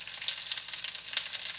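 Eggplant frying in oil in an already hot pan at breakfast, a constant bright close sizzle with small pops and crackles, no talking.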